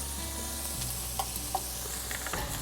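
Abalone and oysters fry in a pan with a steady, fairly faint sizzle and crackle, broken by a few small pops, and no talking.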